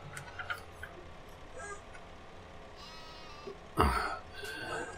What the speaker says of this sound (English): Oh, go away, brown sheep.